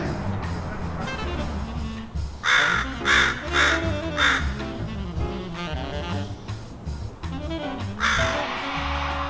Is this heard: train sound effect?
no